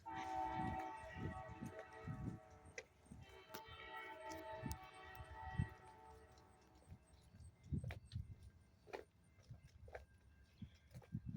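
An Amtrak train passes on a line, its horn sounding in a sustained blast early on, followed by rhythmic clacking of wheels over rail joints as the cars roll by at a moderate distance.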